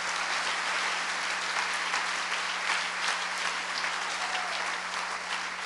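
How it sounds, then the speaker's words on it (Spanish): Dense, continuous applause from a church congregation clapping together, steady and fairly loud throughout with no pauses. "Démosle un aplauso al Señor, hermano"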